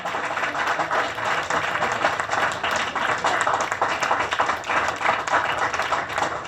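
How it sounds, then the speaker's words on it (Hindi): A theatre audience claps for the writer and director of a stage play on the Kakori train action, with brisk, fairly close individual claps forming a continuous patter that holds evenly to the end. "चंद्रभाष सिंह जी के लिए जोरदार तालियां होनी चाहिए मित्रों।"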